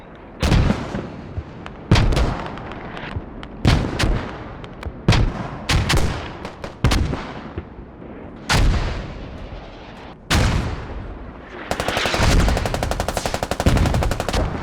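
An artillery fire mission in a tactical military video game gives a series of heavy, loud booming shots, each with a long rumbling tail, about eight in all, followed near the end by a rapid, sustained burst of automatic fire.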